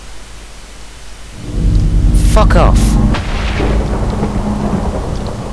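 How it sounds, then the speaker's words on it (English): Lightning thunder in the Minecraft video game, a loud rumbling crack that swells and rolls on steadily, with a voice speaking briefly over it. "Chuck Norris just used lightning."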